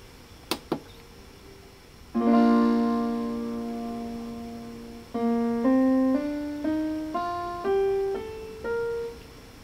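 A musical scale is played, beginning with two sharp plucked notes, then a sustained chord followed by a rising sequence of about seven distinct tones, each note clear and ringing, with no talking.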